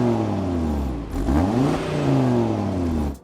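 A current Audi RS3 with particulate filters in the exhaust and a soft limiter revs steadily. Its engine hum is muffled and smooth, with one brief dip and recovery midway before cutting off.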